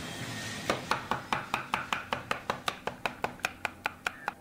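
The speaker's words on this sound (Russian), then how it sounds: "И сейчас немного еще измельчим это ножом." A knife chops ginger pulp on a board in quick, even strokes, about eighteen sharp taps in a steady rhythm. The sound is close but soft, with no talk.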